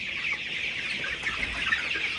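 A dense chorus of about a thousand colour-bred broiler chickens clucking and murmuring together in a poultry shed, a steady flock noise with no single bird standing out.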